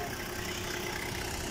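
Toyota Land Cruiser engine idling inside Highland Industrial Garage in Kenya, a continuous even rumble with a faint knock, steady and close throughout the brief moment.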